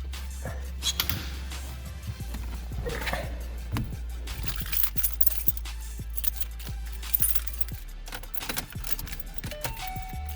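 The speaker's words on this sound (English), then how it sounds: "Where are my keys? Oh, here they are." Keys jangle and clink in short metallic bursts over a steady low hum, likely a car's interior, with repeated small jingling impacts throughout.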